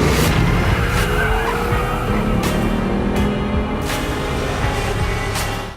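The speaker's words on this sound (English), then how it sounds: "Coming to a screeching halt" Kia Stinger sports sedan in a Super Bowl commercial, its tires screeching as it skids to a halt, loud car noise with sharp bursts over a continuous engine and tire roar.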